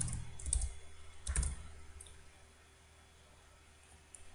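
Typing C code on a computer keyboard: a few quick clusters of soft key clicks, then a short quiet pause before a couple more taps, close and faint.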